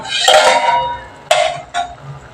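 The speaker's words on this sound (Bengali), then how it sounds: "এবার আমি একটু ঢাকা দিয়ে দেব সবজিগুলো যাতে একটু ভালো করে সিদ্ধ হয়" A metal lid clanks onto a pan of frying mixed vegetables, with a ringing clang followed by two quicker lighter knocks as it settles, loud and close.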